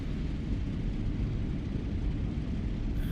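Steady low droning roar of a P-47 Thunderbolt's radial engine in DCS World flight simulation, constant and loud with a rumbling bass texture, no variation across the few seconds.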